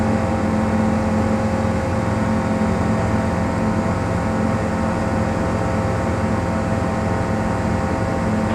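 A small airplane's engine drones loudly and steadily through the takeoff climb out of Gallup, New Mexico. The roar stays constant without a break, and there is no talk over it.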